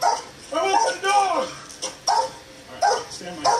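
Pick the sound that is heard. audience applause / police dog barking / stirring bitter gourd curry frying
police dog barking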